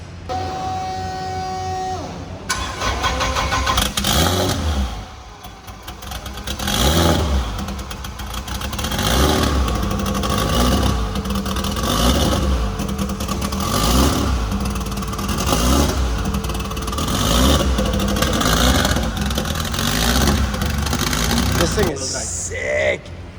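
A powerful Honda drag race car engine roars loudly, revving up and down repeatedly in a rough, throaty rhythm.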